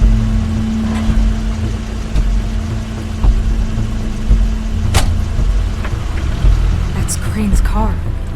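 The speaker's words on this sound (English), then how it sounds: "That's Crane's car." An engine rumbles low and steady in The Wolf Among Us video game as Crane's car pulls up, with a few brief clicks and knocks on top and speech over it.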